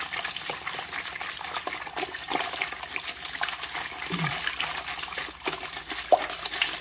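A knitted wool bag is agitated vigorously in water for felting, giving continuous sloshing, splashing and gurgling close by with irregular bursts, and no voices.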